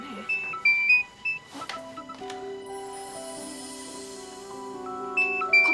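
A mobile phone rings with a repeating electronic tone, a bright melodic beep pattern that sounds steadily through the room, fairly close, with brief background clatter at the start.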